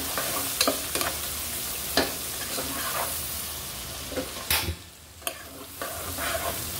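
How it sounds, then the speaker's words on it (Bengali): Onions frying in very hot oil, being browned for a whole roast chicken dish, sizzle steadily alongside clinks and scrapes of stirring, close and moderately loud with no voices. "এবার আমি এখানে কিছু পেঁয়াজ বেরেস্তা করার জন্য পেঁয়াজ দিয়ে দিলাম"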